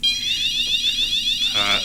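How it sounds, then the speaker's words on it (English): A fire alarm sounds in a council chamber during a full council meeting, a loud, continuous electronic warble repeating rapidly throughout, close and alone without speech. "That is the fire alarm."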